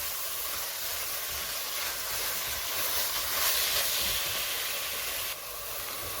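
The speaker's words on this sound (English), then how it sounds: "I'm also going to add beef, and I'm going to stir fry it until it's going to change its color" Minced beef and garlic stir-fry in a pan with a continuous hissing sizzle, fairly close and even, swelling slightly in the middle and dropping a little near the end, with no talk.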